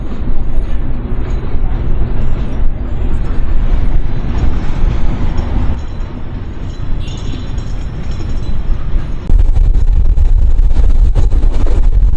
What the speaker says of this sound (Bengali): তো আমাদের ট্রেনটা এখন আলমডাঙ্গা রেল স্টেশন থেকে ছেড়ে গেল